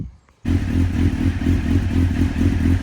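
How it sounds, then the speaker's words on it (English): A classic Suzuki motorcycle engine fitted with a full titanium race exhaust fires up after a brief quiet moment. It settles into a loud, steady, lumpy idle with a rhythmic low pulse. "Let me fire this sucker up and let you take a listen to what an old dinosaur sounds like."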